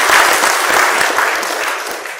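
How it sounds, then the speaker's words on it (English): An audience at a book talk breaks into applause, a dense, close wash of clapping hands that holds steady and then begins to taper off. "Can we have a round of applause for that?"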